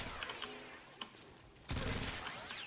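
Gunfire from a weapon in the video game Warframe: scattered sharp shots, then a louder, denser burst of rapid fire that holds steady to the end.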